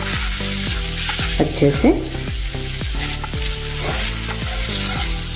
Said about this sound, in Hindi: कम गैस पर इसको तलना है, हमें फ्राई करना है